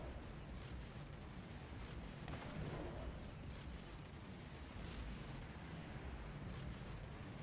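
Dense, continuous rattle of rapid video game gunfire from shooting units and explosive bursts layered into a steady roar, with no pauses across the whole stretch.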